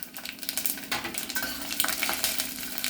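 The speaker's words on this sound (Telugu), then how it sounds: "తర్వాత తాలింపు వేస్తాను. ఆవాలు, జీలకర్ర, వెల్లుల్లిపాయలు," Mustard seeds, cumin and garlic sizzle in hot oil for tempering, a close, crackling fry with stirring scrapes and pops, with no talking.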